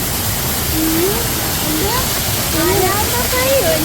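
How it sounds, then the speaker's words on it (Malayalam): An artificial waterfall with fish in its pool, inside a butterfly conservatory, rushes with a loud, constant roar of falling water while someone speaks over it. "ചിത്രശലഭത്തിന് വേണ്ടി ഉണ്ടാക്കിയ വെള്ളച്ചാട്ടം"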